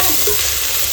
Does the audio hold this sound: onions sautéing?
yes